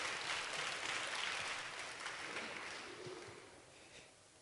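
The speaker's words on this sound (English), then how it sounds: "How about a round of applause for her and her crew that worked tirelessly to put this together?" Audience applause at a Black History program fills the room as a dense, steady wash of clapping, fairly faint and gently fading toward the end.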